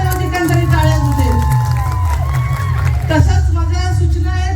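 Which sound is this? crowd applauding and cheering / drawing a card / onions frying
crowd applauding and cheering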